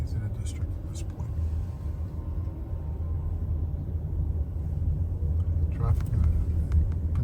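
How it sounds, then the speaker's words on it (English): Busy city street traffic on Broadway in New York City, a steady low rumble of vehicles close by with passing cars, brief higher clatter near the start and end, faint murmur of people under it. "Pedestrian traffic is getting much more intense, as is vehicle traffic."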